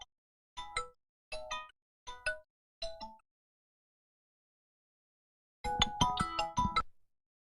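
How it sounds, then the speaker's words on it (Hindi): A phone rings during a geometry class, sounding as several short bursts of a chiming electronic ringtone, then a pause, then a longer, louder burst of the same tune, with no talk over it. "कहाँ से फोन आ रहा है?"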